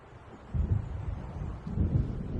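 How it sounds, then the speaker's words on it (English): An approaching storm in a video game, with low rolling thunder and gusting wind that swells in two heavy bursts over a steady dull rumble. "It seems there's a storm coming."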